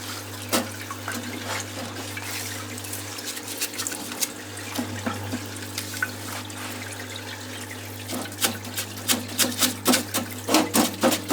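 Lucas DR3a wiper motor parts, starting with the armature, being cleaned in a wash tank: water sloshes and splashes over a steady pump hum, with irregular brushing and dripping that grows busier toward the end.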